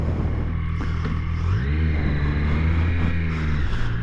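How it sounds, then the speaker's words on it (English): A Triumph Street Triple 765 R three-cylinder motorcycle engine idles loud and close, its raspy rumble rising in a revving swell midway before dropping back to a steady idle. "firing up the bike, you can hear a pretty aggressive sounding, raspy Triumph 3-cylinder engine"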